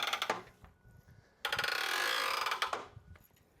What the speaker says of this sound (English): Collapse the arms on the front and the back.